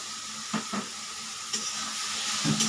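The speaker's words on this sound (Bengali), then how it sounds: "আমি এখন টমেটোটা দিয়ে দিলাম" Tomato goes into a pan of fried onions for Bengali dal chorchori, giving a steady sizzle with a few soft stirring scrapes and clinks near the start, middle and end.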